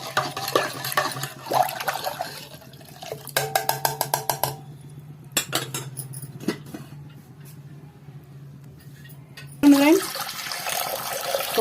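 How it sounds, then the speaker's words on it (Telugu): Water splashes and pours in short bursts into a metal pressure cooker, with clinks and pauses between, over a low steady hum. "కుక్కర్లో అయితే వాటర్ నాకు కావాల్సినన్ని వాటర్ పోసుకుంటున్నాను"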